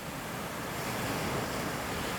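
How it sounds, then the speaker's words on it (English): Ocean waves wash steadily onto a shoreline at sunrise, a continuous broadband roar of surf with some wind noise, even and unbroken throughout with no voices. "Listening to waves crash onto the shoreline."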